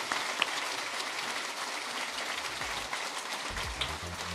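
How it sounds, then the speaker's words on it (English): Audience applauds panelists at the close of a discussion, a dense continuous patter of many hands at even volume, with brief low voices murmuring underneath near the end. "a round of applause for all our panelists"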